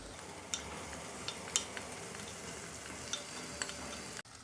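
Moong dal and spinach with goda masala are sautéed in a pan, giving a soft, even sizzle. A few light clicks of a spoon are heard, and the whole scene is faint and close.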